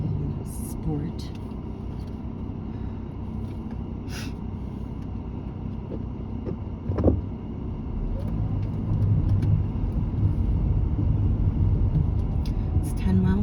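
A car in sport mode climbs a dirt mesa road on Black Mesa (Mesa Prieta), New Mexico, producing a steady low engine rumble and road noise with bumps, louder near the end.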